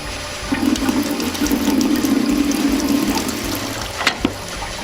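Water rinses through a Trittico Executive Evo machine in a steady, rushing flow with faint mechanical clicking, close and continuous, with a brief knock near the end.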